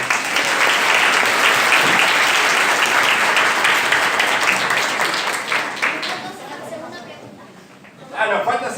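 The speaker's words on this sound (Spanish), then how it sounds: "Bueno, muy bien, un aplauso." An audience applauds at a 2018 national Ñandú competition event: loud, dense crowd clapping fills the room for several seconds, then thins and fades, with murmured chatter underneath and a brief voice near the end.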